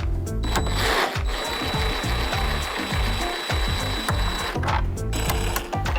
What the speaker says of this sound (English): we'll go ahead and remove the T27 screws underneath the speaker covers